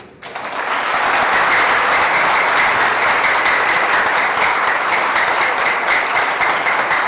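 Studio audience at a comedy show breaks into applause: clapping starts sharply, swells within a second into a loud, dense, steady roar of hands and holds evenly to the end.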